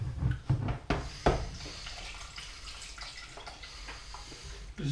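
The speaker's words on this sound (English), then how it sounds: "filtered water, which we're going to put in." Filtered water pours into a pot of Thai jasmine rice for shrimp khao tom rice soup, giving a few splashy bursts early, then a steady close trickle and swirl running alone to the end.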